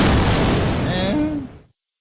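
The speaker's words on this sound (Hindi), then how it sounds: "गेंद नियत स्थान पर पहुंचते ही जोरदार धमाका होता है" A buried landmine detonates as a thrown ball lands on it, a loud booming blast with a rumbling tail that fades out within about a second and a half.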